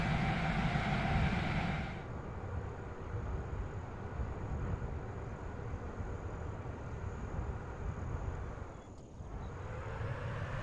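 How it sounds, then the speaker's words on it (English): A jet plane in the flight game Aviassembly drones steadily with a broad engine roar, louder for the first two seconds and then holding even, with a brief dip near the end. "This is a surprisingly capable jet plane."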